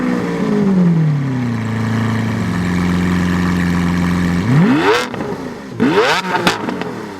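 A Lamborghini Aventador's 730-horsepower 6.5-liter naturally aspirated V12 idles with a deep steady drone, then revs sharply twice in rising, snarling bursts near the end.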